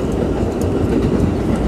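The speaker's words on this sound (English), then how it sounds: "Keep the train on the rails." An R32 subway train on its final retirement run rumbles loudly and steadily along the rails, a continuous dense roar with faint clatter from the wheels and no talk.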